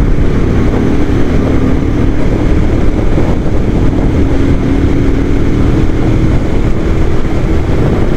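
Royal Enfield Himalayan Scram 411 motorcycle cruising in fifth gear at about 80 km/h on a highway: a loud, steady engine drone buried in heavy rushing wind noise, unchanging throughout, with no speech.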